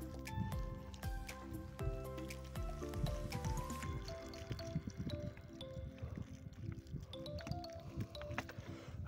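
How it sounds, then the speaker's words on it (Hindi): Water is poured onto newly planted trees outdoors, a continuous squishy, gurgling splash of liquid soaking into soil, close and steady throughout, with music or background tones running underneath. "अभी बस पानी देना बाकी है"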